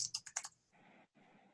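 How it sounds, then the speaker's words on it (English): Typing on a computer keyboard gives a quick run of four or five faint, crisp clicks, then a soft, steady hiss. "now I'm going to be typing in"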